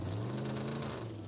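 A drag race engine drones steadily in a brief burst at an airfield drag racing event, a loud, rough, low hum with no break.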